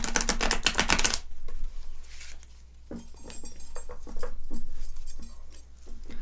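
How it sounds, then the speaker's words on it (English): A quick riffle of a tarot deck flutters loudly for about a second, followed by softer taps and shuffling handling sounds close by. "I'm going to shuffle and cut it one time to bring your energy in"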